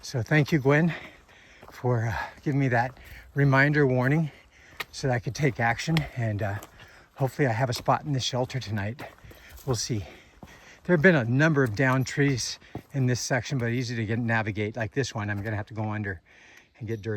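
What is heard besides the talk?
No distinct noise like a dog, phone or traffic.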